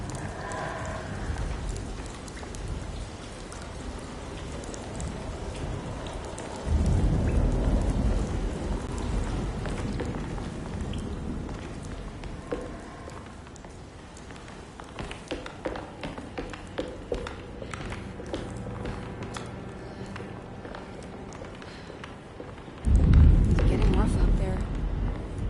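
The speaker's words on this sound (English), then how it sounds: "Storm." A thunderstorm with steady rain pattering on surfaces. Two deep rolls of thunder swell up, one early and one near the end, over a continuous wash of rainfall.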